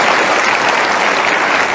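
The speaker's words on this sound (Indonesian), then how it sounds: "Boleh tepuk tangan untuk periode kedua." Studio audience applause at an Indonesian televised talk show, steady and full, loud and continuous with no voices over it.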